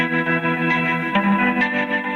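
Electric guitar played through tremolo, reverb and delay effects, sustained shimmering chords with a wavering, echoing wash that rings continuously and fairly loud, with no talking.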